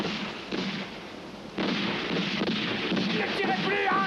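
Bursts of gunfire crackle through a film scene, sharp reports overlapping with shouting voices and a noisy, dense background.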